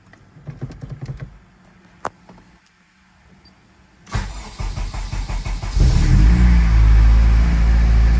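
A Honda Civic with a built transmission starts up after a few clicks and quiet cabin sounds. The starter catches and the engine fires, then settles into a loud, steady idle heard from close by.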